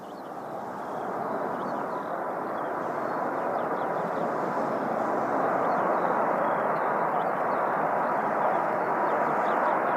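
An Airbus A380 landing at Christchurch Airport in possible crosswinds, its engines a broad, steady roar that swells slightly and holds loud and close throughout.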